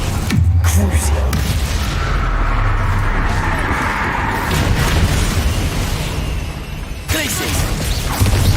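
The Crucio spell is cast in the Hogwarts Legacy video game, bringing loud booming blasts and crashing impacts over a busy rumbling battle bed, with a sharp hit near the start and another burst near the end. A voice speaks during the clip.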